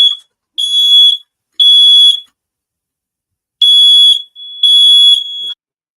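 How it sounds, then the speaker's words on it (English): A loud, piercing smoke alarm beeps in four long bursts with a pause midway, shrill and close, with no talking. "The smoke detector went off."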